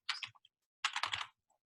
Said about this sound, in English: if I type in wrong code, and I type in today's date